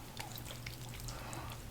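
Cold tap water runs and splashes softly over hands being rinsed of a pumpkin honey glycolic face mask, a faint, steady trickle with small drips close by.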